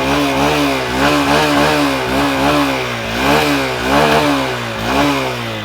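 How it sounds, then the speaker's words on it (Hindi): A Honda 125 cc motorcycle engine revs up and down repeatedly with the throttle, the pitch rising and falling in waves, loud and close with no talking. "अब मैं थ्रॉटल देता हूँ।"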